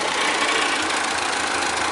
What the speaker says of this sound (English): I'm going to turn the tractor down a little bit